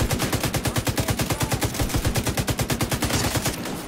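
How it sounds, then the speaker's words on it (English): Sustained automatic gunfire in The Division 2 co-op, a fast, even stream of loud, close shots rattling on for several seconds with no talking over it. "Wow, took a lot of shots."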